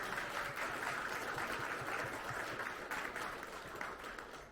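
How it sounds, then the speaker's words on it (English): Steady, diffuse applause from a crowd at an outdoor political club carnival, a wash of many hands clapping fairly evenly throughout, moderately distant, with no talk above it. "Give them a round of applause."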